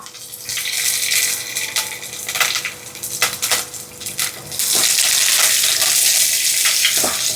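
Green chillies, curry leaves, crushed ginger and garlic hit hot oil in a pan, giving a steady, loud sizzle that swells into a dense, bright hiss in the second half, with a few clinks and stirring scrapes.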